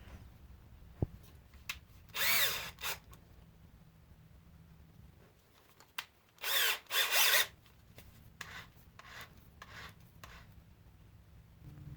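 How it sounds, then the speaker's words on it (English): A power drill boring a hole in wood whirs in two short bursts, then two longer ones, with quiet pauses between them, close by. "then I'm going to put in my drill"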